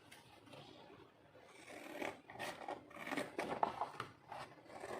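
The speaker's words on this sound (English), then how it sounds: "And I use the scissors." Scissors cutting chipboard for a handmade explosion box, close crisp snipping and rasping strokes that come in an uneven series and grow louder partway through.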